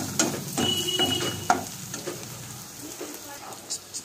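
Green chilies frying with onion in a pan for chicken masala curry, a steady close sizzle with a few sharp clinks and scrapes early on, fading to quieter frying toward the end.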